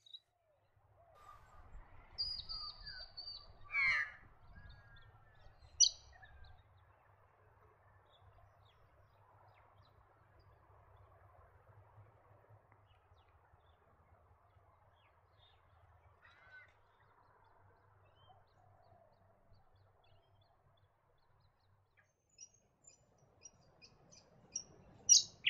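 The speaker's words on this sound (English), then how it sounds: "Another honeyeater that is often heard but quite difficult to see" A brown honeyeater near Gatton calls in a quick cluster of bright, sharp chirps and whistled notes early on, then goes quiet, with a few faint notes returning near the end in a calm outdoor setting.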